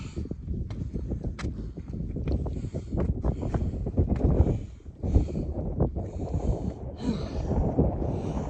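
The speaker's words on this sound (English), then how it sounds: "Oh, the wind." Strong wind roars and buffets the microphone at the Beartown Rocks lookout in Clear Creek State Forest, a continuous loud gusting rumble with brief lulls.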